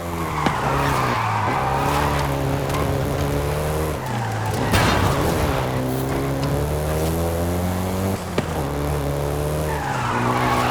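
A Volkswagen Golf GTI driven in Forza Horizon 5, its engine droning loudly and steadily through several gear changes, with tires squealing and skidding near the start and again toward the end.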